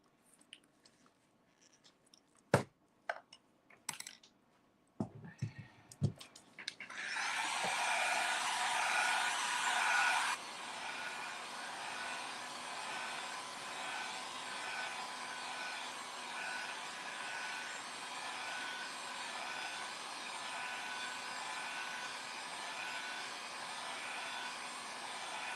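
After a few scattered clicks and handling noises, a hair dryer switches on to dry primer on a papier-mâché craft, blowing loudly at first, then settling into a steadier, slightly softer whoosh that runs to the end.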